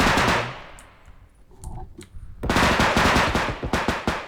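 Rapid bursts of automatic gunfire from the video game Bodycam, loud and close, with a brief lull before the firing resumes in dense rattling volleys.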